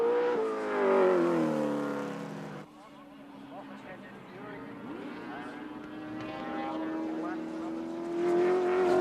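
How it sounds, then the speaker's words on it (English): Touring race cars at Wanneroo Raceway in 1983 roar past with rising and falling engine notes, a Commodore among them, while a commentator talks over the racing. "look at Fury now, right in the slipstream of the Commodore as he goes across to the inside"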